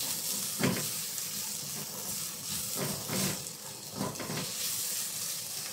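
Carrots frying in a pan for pork stir-fry noodles, a steady close sizzle and hiss with periodic swells as they are stirred, no talking.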